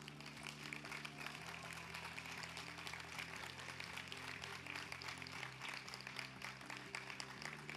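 Audience applauding graduating students at a university institutes' graduation ceremony, a sustained wash of many hands clapping with steady music playing underneath.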